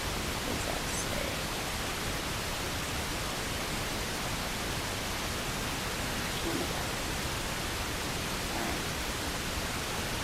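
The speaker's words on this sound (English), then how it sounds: "This one's pink noise" Pink noise playing from a phone, a steady, even broadband hiss that holds at a constant level the whole time with no variation or talk.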